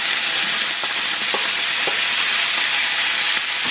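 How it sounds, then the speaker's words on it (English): Broccoli drops into a pan of hot bacon grease and fries with a loud, dense, continuous sizzle. A few faint taps sound as pieces land, close by and with no talking. "You can see all that grease in there. I'm just going to drop the broccoli in."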